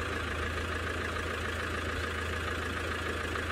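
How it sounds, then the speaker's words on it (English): Safari vehicle in the Maasai Mara idling as it eases forward, a steady low engine drone and hum throughout with no talk. "Unfortunately, these cars are not the quietest"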